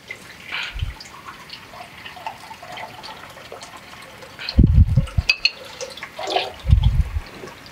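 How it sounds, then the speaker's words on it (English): Water poured into a pot of thick bitter leaf soup (ofe onugbu) in a home kitchen, two short splashing bursts near the middle and end over a quiet background, with no talking. "I'm going to be adding a bit of water"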